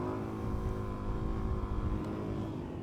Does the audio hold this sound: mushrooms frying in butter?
no